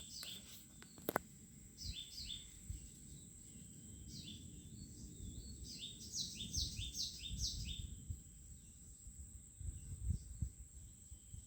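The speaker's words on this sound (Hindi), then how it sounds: "जो पक्षी हैं यहाँ पर, उनकी आवाज़ आप सुन सकते हो।" Small birds chirp in quick repeated bursts around the Waghjai Devi temple in Badlapur, faint and somewhat distant, over a steady high insect drone and low outdoor rumble, with no talking.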